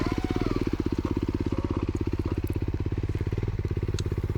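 Enduro motorcycle engine at an enduro competition, a loud rapid thumping putter held at a steady low rev, close by, continuous throughout.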